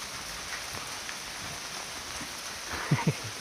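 Rain falling on the Appalachian Trail, a soft steady patter with a few nearby drips and taps, faint and without talk.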